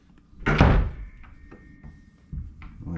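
A hotel room door in an 1893 building is handled: one solid thud near the start, then softer knocks and a latch click, heard close up with no talking.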